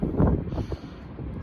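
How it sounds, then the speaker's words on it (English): Wind buffeting a microphone outdoors beside a 1968 Chevrolet El Camino, a low rumbling, gusty roar that swells and eases over a short stretch, close and fairly loud, with no talking. "It's windy out here."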